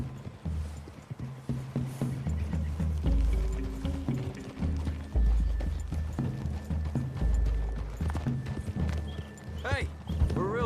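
Horses' hooves clip-clop steadily through a clearing in The Witcher 3: Wild Hunt, rhythmic and fairly close beneath ongoing dialogue between characters, with a brief whinny-like sound near the end.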